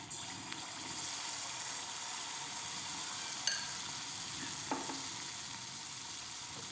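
Rava neyyappam batter fries in hot oil with a steady, close sizzling hiss, broken by a couple of brief clinks, and no voices.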